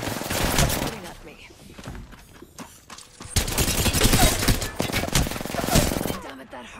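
Gunfire in Apex Legends, dense bursts of automatic fire with a quieter stretch in the middle, then heavy sustained shooting, with a player's voice speaking over it.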